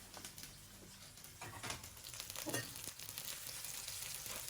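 Prawns frying with onions and chillies in a pan, being cooked for a bitter gourd fry: a faint, continuous sizzle with scattered small crackles and pops, heard alone.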